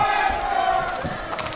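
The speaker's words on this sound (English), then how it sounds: "You can hear the crowd here in Wichita trying to get behind the land shark right now" A crowd at an EFC fight in Wichita cheers and roars steadily, loud and dense, with swelling shouts and a few louder bursts near the end.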